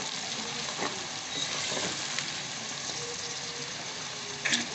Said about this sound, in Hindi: तो मिर्च डाल दें।